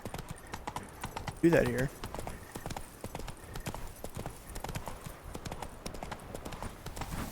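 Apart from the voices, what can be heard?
horse Roach galloping hooves, from video game Witcher 3 Blood and Wine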